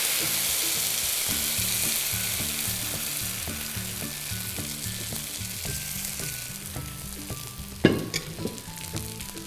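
Rava dosa frying in oil on a hot tava, a steady close sizzle running throughout with a few sharper crackles and clinks of a utensil near the end, no talking.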